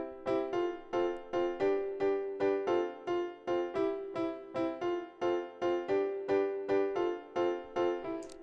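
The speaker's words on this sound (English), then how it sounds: "I started with my acoustic piano" Simple acoustic piano part for an Afropop highlife beat, a steady loop of short, evenly spaced chords repeating in a bouncy rhythm, played alone and close.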